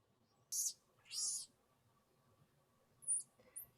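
An infant baboon gives high, thin calls on different postnatal days: a few short squeaky bursts and longer whiny notes, separated by quiet gaps with a faint background hum.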